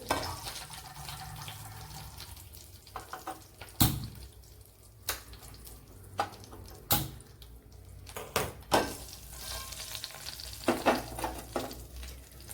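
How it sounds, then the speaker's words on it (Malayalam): Hot oil with some water in it sputters in a steel pan after the flame is switched off, giving scattered sharp pops and crackles over a low, uneven sizzle, close by and without speech. "ഓയിലിൽ വെള്ളാംശം എന്തെങ്കിലും ഉണ്ടായിരുന്നുണ്ടായിരിക്കും പൊട്ടിത്തെറിച്ച്. പ്രത്യേകിച്ച് ഇത് സ്റ്റീൽ പാത്രം കൂടി ആയപ്പോൾ"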